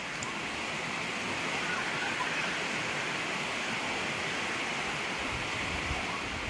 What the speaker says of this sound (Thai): น้ำบริเวณที่ไหลมาเป็นสไลเดอร์นี่เป็นลำธารไหลมาจากภูเขา